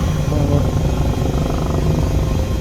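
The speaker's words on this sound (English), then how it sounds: "So I've gotten into this helicopter so well, I hate to get out of it and fly anything else for a while." An H160 helicopter engine drones loud and steady in Microsoft Flight Simulator VR, a constant dense rotor and turbine roar filling the whole clip.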